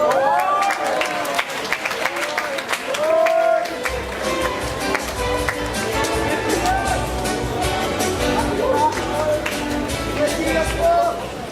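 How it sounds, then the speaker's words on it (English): An audience at a school athletes' awards night gives a round of applause, scattered clapping and cheering with crowd chatter, while music plays with a bass beat entering partway through. "please give a warm round of applause to Chino Reyes"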